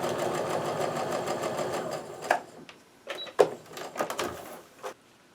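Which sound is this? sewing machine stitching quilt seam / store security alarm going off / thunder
sewing machine stitching quilt seam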